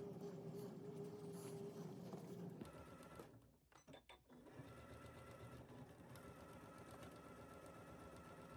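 A sewing machine runs on a dress seam with a rapid mechanical hum, stops briefly with a few clicks and knocks, then starts again and keeps stitching steadily, heard quietly with no talk.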